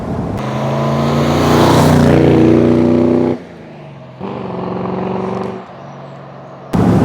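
Daimler SP250 sports car with its V8 engine driving, a loud, smooth and close engine drone that dips briefly before the revs build again, with no talking.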